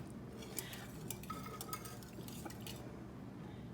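A utensil mixes egg, salt and vanilla in a bowl, making faint, quick clinks and taps against the side as it stirs, with no voices.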